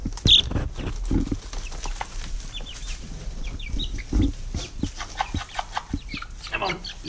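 Young chicks at five weeks old cluck and peep on a homestead, with scattered close calls and soft scratching throughout, while a person talks over them now and then.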